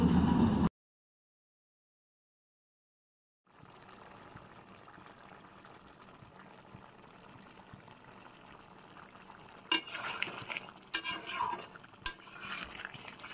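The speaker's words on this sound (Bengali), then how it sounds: "এবার ভালো করে এটাকে মিক্সড করে নিব।" A pot of dudh potol curry with ground coriander, cumin and garam masala simmers quietly while a spoon stirs it. A brief clatter comes first, then a silent pause, then soft bubbling and a few clinks of the spoon against the pot.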